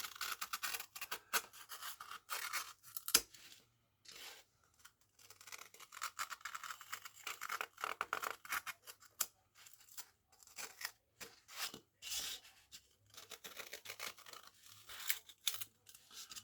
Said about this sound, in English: I take the largest part of it out with the knife, the X-Acto knife, and start carving into it now